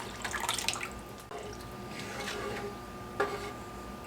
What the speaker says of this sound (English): So we're gonna pour our broth in there.